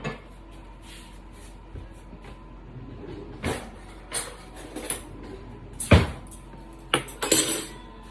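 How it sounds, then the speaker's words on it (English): A spoon stirs freshly baked beans in a hot pot, giving scattered metallic clinks and scrapes against the side. A soft low background hum runs throughout. "Let me stir them."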